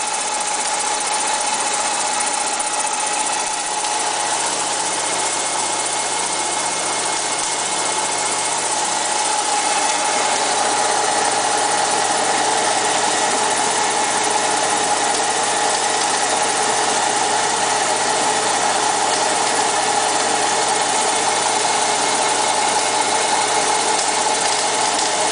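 A milling machine runs steadily through a fly cutter machining pass, a continuous mechanical drone with a faint high whine that stays even and close from start to finish, with no talking.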